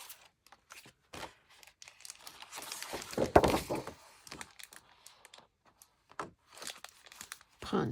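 Stickers being punched out and torn from a sheet: a run of short, dry tearing and crinkling bursts, close and fairly quiet, with one louder rip in the middle and brief pauses between.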